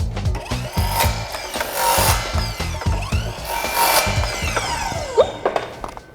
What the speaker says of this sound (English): I think I'm actually just gonna go ahead and cut the other 3 with the miter saw